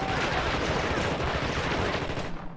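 Sustained dense gunfire from the video game The Thing, a loud continuous barrage of rapid shots that fills the whole moment without any pause.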